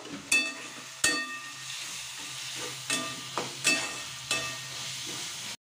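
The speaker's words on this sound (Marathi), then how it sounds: "मी आता त्याच्यामध्ये डार्क सोया सॉस टाकून घेत आहे आपल्याला छान फ्राय द्यायचं आता हे सगळं" Hakka noodles fry with dark soy sauce in a hot pan, a steady close sizzle broken by several sharp scrapes and knocks of the spatula, with no talking.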